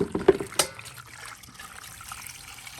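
Water trickles and splashes in a basin during washing, with a few sharp splashes at the start, then a soft, faint steady dribble.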